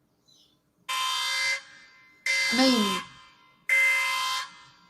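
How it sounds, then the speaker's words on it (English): An alarm blares in three long, loud buzzing bursts separated by short gaps, with a brief spoken word between them. "where's this bloody alarm?"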